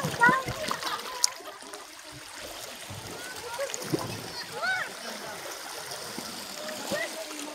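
Water splashing and sloshing as people bathe outdoors in clear seawater at Bagac, Bataan, with voices talking and calling over the shallow, uneven splashes.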